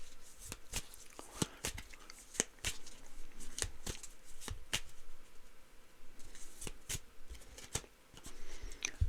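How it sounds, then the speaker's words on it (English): Affirmation cards being shuffled by hand make a run of crisp, close riffling snaps. Sharp bursts repeat at an uneven rhythm over a quiet background, with no talking. "So let's get a affirmation card and see what card we're going to pull for this."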